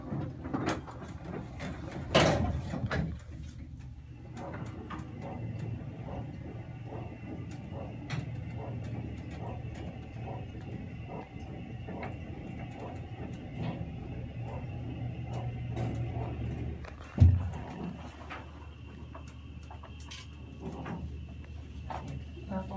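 A 1970s Otis Lexan hydraulic elevator at a Macy's in the Westfield Broward mall runs with a steady low hum and faint mechanical ticking, with a clunk early on and a louder thud near the end as it stops.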